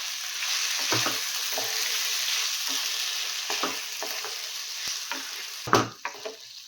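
Soaked, swollen large sago pearls tipped into a pan with fried cashews and raisins, sizzling steadily in oil with a few soft stirring scrapes and a louder clatter near the end, no talking.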